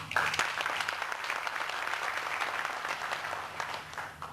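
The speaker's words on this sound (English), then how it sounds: "To all, I give you a big applause" A room full of people at a college professional development event claps steadily, a sustained patter of applause at moderate volume that holds evenly and fades slightly toward the end.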